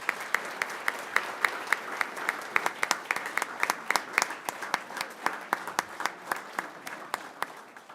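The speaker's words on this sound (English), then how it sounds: "Let's give everybody who's supported all these wonderful Bobcats a giant round of applause." Applause at a city council meeting for supporters of the Radford Bobcats, a small group clapping in distinct, sharp claps that ring out individually with a loose rhythm, fairly close and sustained for several seconds.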